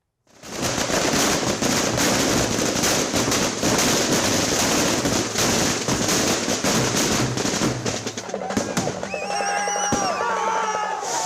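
Firecrackers burst in dense, continuous crackling volleys at a street welcome for an AIADMK election candidate, loud and sustained for most of the stretch before thinning out near the end.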